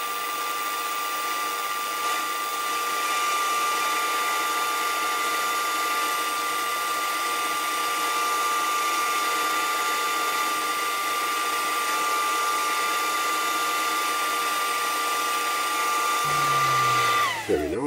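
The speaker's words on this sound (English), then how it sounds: "Must remember to put the dust extractor on." A workshop dust extractor in a woodturning shop drones steadily with a constant high whine, running continuously and fairly loud before cutting off abruptly at the end.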